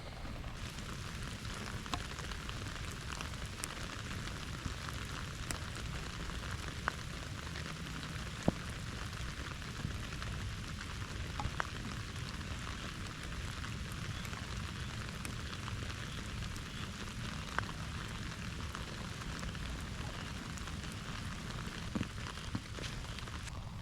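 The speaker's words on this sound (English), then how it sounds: "I know it's raining, but this is pretty sweet." Steady rain falling on a surface at a golf practice facility, a continuous soft hiss with scattered louder drops, no voices.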